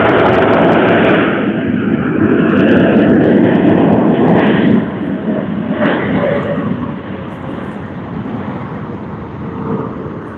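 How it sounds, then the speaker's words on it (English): A Cathay Pacific Boeing 777-300ER landing at Sydney Airport with thrust reversers deployed, a loud, broad roar that holds steady, then eases to a lower rumble as the engines spool down, with wind buffeting on the microphone. "we now have Cathay Pacific's Boeing 777-300ER that has just arrived from Hong Kong"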